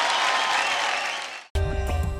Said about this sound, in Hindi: दोनों के लिए तालियां